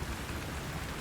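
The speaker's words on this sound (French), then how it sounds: "réveillé dehors avec toute cette pluie qui tombe?" Steady rain pours down outside during a nighttime storm, a dense even hiss with low rumbling beneath, continuous and close with no voices.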